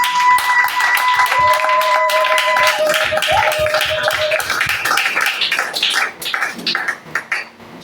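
A church congregation applauding: many hands clapping loudly and steadily together over sustained tones, then thinning out into scattered claps.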